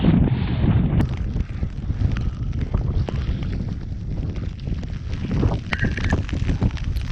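Strong wind on a steep Scottish mountain as the weather closes in with rain, a loud, continuous buffeting rumble battering the microphone throughout, with no voices.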